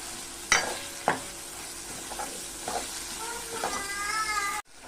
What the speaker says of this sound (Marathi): कांदा आणि टोमॅटो दोन्ही टाकून घ्यायचं आहे आणि चांगलं व्यवस्थित परतून घ्यायचं आहे